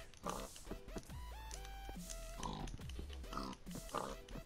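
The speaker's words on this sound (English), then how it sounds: "Let's kill a pig." A pig in the Minecraft video game gives several close, clear oinks and grunts in bursts, mixed with faint keyboard typing.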